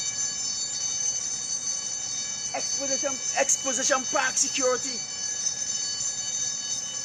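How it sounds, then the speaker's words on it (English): A fire bell rings continuously at Exposition Park security, a steady high-pitched metallic tone running throughout while someone talks over it in the middle. "So they put on the fire bell."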